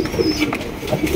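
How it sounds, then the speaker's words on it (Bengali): Pigeons, a pair of black-laced bantam-type birds, coo softly and repeatedly in a short continuous burst, fairly close, with no voices over them. "এখানে রয়েছে একজোড়া ব্ল্যাকলেস বন্টিনেট কবুতর"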